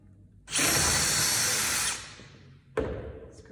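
A power drill bores a pilot hole in wood, whining loudly for about a second and a half, then spinning down, followed by a brief clunk and a fainter tail of sound.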